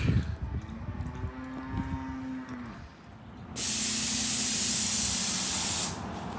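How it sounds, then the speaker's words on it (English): Pressure washer spraying refurbished barn wood: a steady, loud broadband hiss of water jet starts partway through and runs for a couple of seconds before cutting off, after a quieter stretch of low background noise. "I'm gonna put that pressure washer to work."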